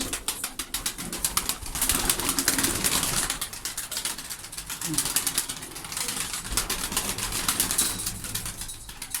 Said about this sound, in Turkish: şimdi de bu kuşlar ilk defa Bugün dışarı çıkarıyorum kuşları